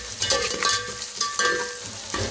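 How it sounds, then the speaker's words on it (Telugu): Ginger garlic paste stirred and frying in a pan for chicken pulao, a steady close sizzle broken by repeated scraping strokes of a spoon through the paste. "అల్లం వెల్లుల్లి పేస్ట్ కూడా బాగా వేగింది కదా"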